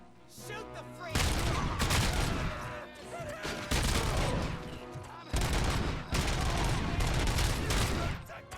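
Gunfire rattles in the video game RoboCop: Rogue City, loud rapid bursts of shots in several volleys separated by short gaps, with some voices mixed in.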